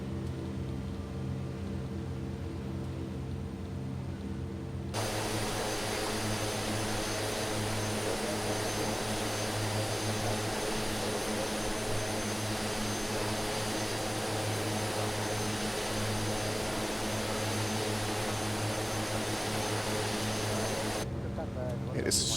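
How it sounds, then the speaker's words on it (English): A de Havilland Twin Otter's propeller engines roar loudly and continuously from outside the aircraft in a flight simulator climb toward Mount Everest, a dense, steady drone that swells noticeably after a few seconds and holds for the rest. "It is so loud outside of this airplane."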